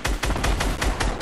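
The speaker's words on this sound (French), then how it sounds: "À droite, des tirs, j'attends des tirs, mon gars." Fortnite gunfire in a duos match, a quick loud burst of rapid evenly spaced shots, close and punchy, with no talk over it.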